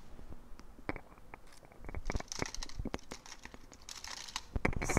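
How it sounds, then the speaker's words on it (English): A piece of Kona cotton fabric is torn off a large hunk by hand, giving quiet, close crinkling rips and scattered sharp tearing bursts over about five seconds. "Let me see if I can tear off a piece."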